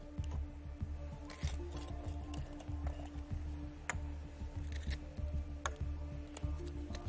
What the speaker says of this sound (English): You have to shuffle these 6 balls,